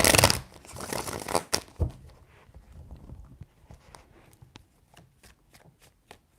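Tarot cards are shuffled by hand, with a loud burst of riffling at first, then softer shuffles and a run of sharp, evenly spaced card taps and snaps fading toward the end, with no talk.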